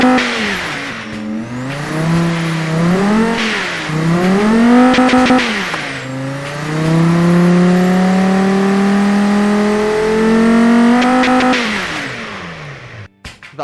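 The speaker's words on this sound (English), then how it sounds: "I'm testing the engine." A car engine under test revs up and down in several rising and falling sweeps, then holds a long, loud climbing whine before it cuts off abruptly.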